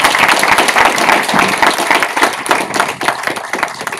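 An audience at an entrepreneurship talk applauds with loud, dense, sustained clapping that gradually thins toward the end.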